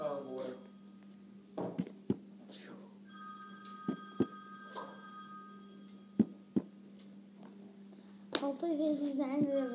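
A telephone rings repeatedly in a room, a sustained electronic bell tone with sharp clapping or tapping noises and a voice over the top, fairly quiet overall.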